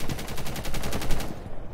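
Rapid automatic gunfire in Rainbow Six Siege, a loud, close burst of evenly spaced shots that stops abruptly after about a second and a half.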